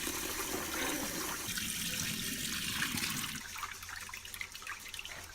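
Sweet rice for makgeolli is washed in water, with a steady, quiet splashing and rushing of water that shifts to softer sloshing and trickling partway through.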